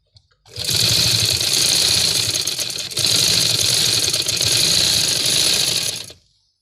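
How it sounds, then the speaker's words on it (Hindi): A sewing machine stitches the side seam of a baggy shirt in one loud, steady run heard up close. It starts abruptly, holds through a brief dip midway and stops cleanly, with no talking. "अब ये साइड की सिलाई मैं लगाने लगी हूँ।"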